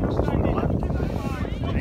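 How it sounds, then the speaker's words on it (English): Strong wind buffets the microphone beside a football pitch during a non-league match, a dense continuous roar with gusty swells, while a voice speaks underneath. "This wind is coming down this touchline slightly at an angle"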